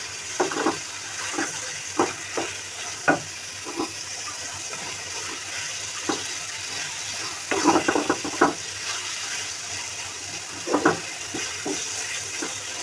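Fish roe stirred in a pan with onion, ginger, garlic, turmeric, chili, coriander and cumin, with no water added: a steady low sizzle broken by scattered scraping clacks of a spoon against the pan.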